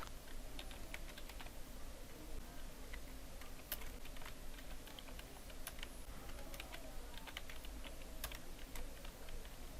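Steady typing on a computer keyboard while entering text in a Microsoft Word document, with sharp, irregular key clicks over a constant low hum and no talking.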